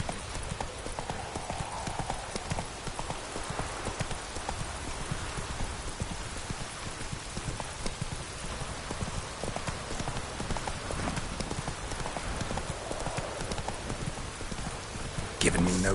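Horse Roach galloping in the video game The Witcher 3, rapid rhythmic hoofbeats at a steady pace with light rain pattering underneath, moderately quiet and continuous.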